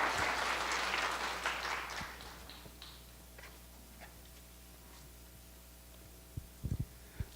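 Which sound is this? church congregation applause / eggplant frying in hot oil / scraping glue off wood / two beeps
church congregation applause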